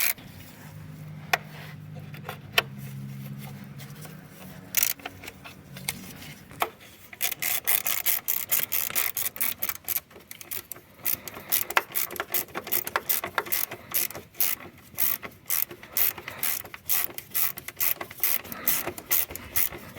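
A wrench works self-locking nuts on the alternator of a Fiat diesel engine, with a brief rubbing hum at first, then a long run of rapid ratchet clicks and metallic scraping, close and fairly quiet.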